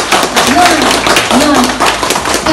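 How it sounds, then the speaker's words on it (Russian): Guests at a Tatar wedding clap together, a loud, continuous patter of many hands mixed with voices and talk running through the whole stretch. "Итак, дорогие гости, аплодисменты!"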